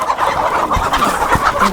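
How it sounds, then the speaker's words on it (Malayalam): A native rooster clucks and squawks loudly up close while being caught. Agitated cries run continuously, with scuffling thumps underneath. "നല്ല അടിപൊളി ഒരു പൂവൻ കോഴിയാണ് കേട്ടോ എൻ്റെ അടുത്തിരിക്കുന്നത്"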